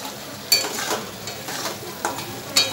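Spiced gravy sizzles in oil in a pan while a spoon scrapes and stirs it, a steady close frying hiss broken by several sharper stirring scrapes, with no voices.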